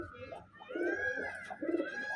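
Malwai Punjabi pigeons coo in soft, low, rolling phrases that repeat steadily at close range, with a faint steady background tone.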